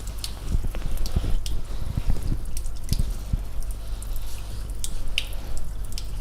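Tap water runs and splashes in a sink during surgical hand scrubbing, with irregular drips, splats and wet squishing of hands over a constant low hum, fairly close and without talk.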